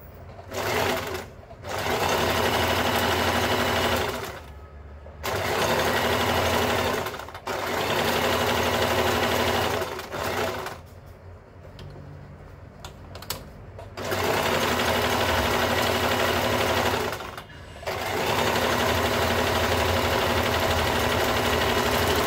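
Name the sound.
sewing machine stitching a blouse-piece petal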